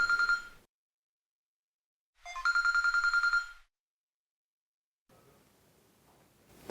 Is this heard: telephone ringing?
yes